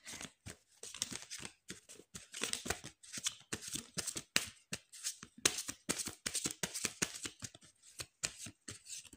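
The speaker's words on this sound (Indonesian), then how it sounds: "Aku keluarkan 6 kartunya dulu." Tarot cards are drawn and handled up close for a pick-a-card reading: quick, papery shuffling and flicking bursts repeat in an uneven rhythm for several seconds, with no talking.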